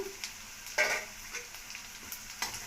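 Onions fry with mint, coriander seeds and cumin in a pan, a soft, close sizzle broken by a few short stirring scrapes and clicks.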